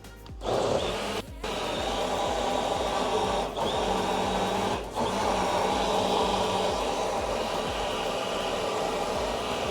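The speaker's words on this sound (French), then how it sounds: "Là, on va mixer plein gaz." A blender runs at full power preparing food for Spanish tapas, a loud, steady whir that fills the whole stretch with only brief dips in motor pitch.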